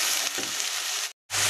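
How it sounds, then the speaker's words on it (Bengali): Onion and garlic paste fries in a pan with a loud, dense, continuous sizzle, cut off by a brief gap before the hiss resumes. "এখন বাটা, পেঁয়াজ রসুনের পেস্ট দিয়ে দিলাম, দিয়ে ভালো করে এগুলাকে ভালো করে ভেজে নিতে হবে"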